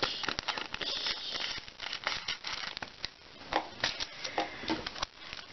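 Scissors cut through crinkly cellophane origami paper close up, a run of sharp snips and papery crackles at an uneven rhythm, fairly quiet with no voices.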